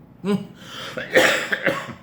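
A single person coughs a few times in quick succession, close and loud, with a rough throat-clearing quality and no speech.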